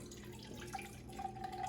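Beef broth, about 10 ounces, poured over smoked brisket gives a steady, quiet liquid stream trickling and splashing for under two seconds, with no voices over it.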